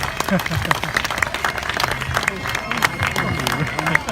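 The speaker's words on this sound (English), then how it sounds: "can I have a big round of applause for Dougal, the Scotch Blackface?" An audience at a sheep show applauds for a Scotch Blackface ram named Dougal, a dense, steady round of clapping with crowd noise and a voice talking over it throughout.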